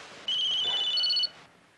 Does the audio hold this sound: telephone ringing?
yes